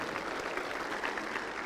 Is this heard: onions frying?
no